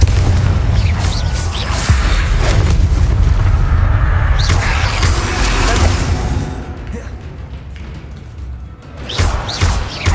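Booming fiery blasts from the Confringo blasting spell in a Harry Potter video game, loud low-heavy explosions recurring across the clip under a player shouting spell names.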